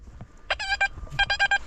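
A metal detector sweeping the ground at an old inn site sounds two quick bursts of rapid electronic beeping tones, close and clear, with a brief pause between them.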